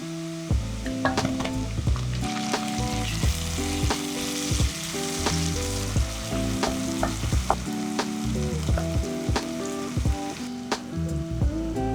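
Garlic and ginger fry in a pan with a loud, continuous crackling sizzle, dotted with quick pops and occasional stirring taps.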